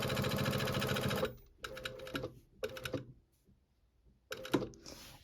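A sewing machine stitching a zipper onto a bag runs in a fast, loud, steady whir, then continues in short stop-start bursts separated by near silence.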